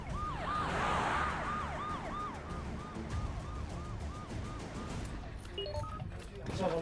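A fire engine siren wails in steady rising and falling sweeps, close and loud over traffic rumble, with more tones joining near the end.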